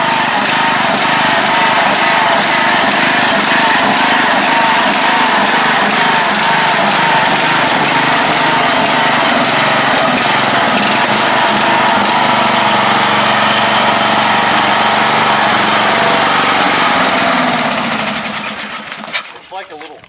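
Small engine of an early 2000s crawler running on trails, a loud, steady buzzing drone held close for most of the stretch before it sputters and shuts off near the end; voices may be mixed in under the engine.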